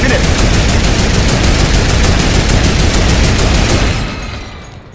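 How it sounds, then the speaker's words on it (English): Rapid, steady automatic gunfire fired at a turret in Fortnite rattles loudly and without pause for about four seconds, then cuts off and leaves a fading tail. "Shoot a turret! Shoot it!"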